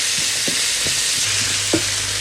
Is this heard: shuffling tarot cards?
no